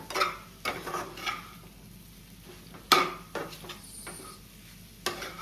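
A spatula stirs egg bhurji in a pan with repeated scraping strokes and metallic clinks, irregular and close, over a faint background sizzle.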